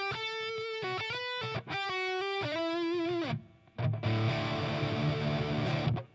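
Electric guitar tuned to drop D, played completely dry with no reverb or effects: a sequence of sustained, ringing chords with clean stops, then a denser, heavier strummed passage at the end.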